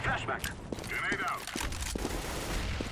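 Bursts of gunfire in Counter-Strike: Global Offensive, sharp rapid cracks in quick succession over game background noise, with a voice talking over them.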